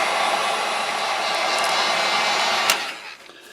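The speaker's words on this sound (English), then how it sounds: "we're definitely going to have to heat gun this one" A heat gun blows steadily while drying a vinyl wrap, a loud continuous broadband hiss up close that holds for about three seconds, then drops away and tapers off at the end.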